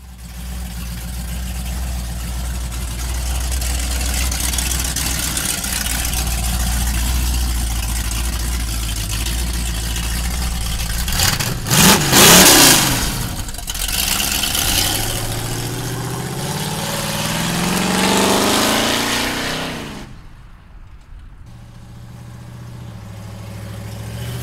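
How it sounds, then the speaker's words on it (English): A 1962 Chevrolet Corvette convertible with a 502 engine and open headers rumbles at a loud, steady idle, then revs hard in a rising and falling burst before dropping back to a rough, lumpy idle. "you're gonna hear those dumps when we're out driving at open headers"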